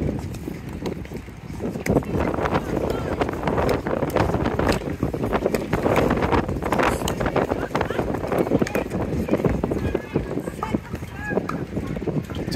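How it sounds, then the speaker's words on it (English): Strong gusty wind roars steadily across the mic at an outdoor pickleball court during a mixed doubles tournament match in Daytona Beach, a dense continuous rumble with a commentator talking over it. "This is just crazy with the wind."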